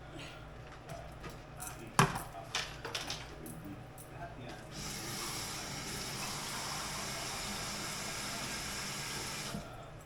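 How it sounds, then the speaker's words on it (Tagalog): Tap water runs into a saucepan for cooking sinigang, a steady splashing stream lasting about five seconds, after a few sharp knocks and clatters of cookware at the start. "Lalagyan po natin ng tubig ang ating saucepan."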